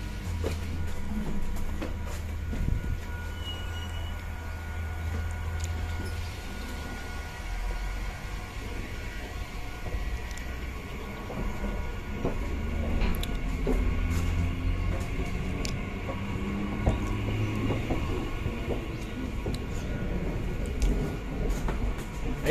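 Steady low rumble and rattling inside a moving passenger train, continuous throughout with occasional clicks and clanks of the carriage.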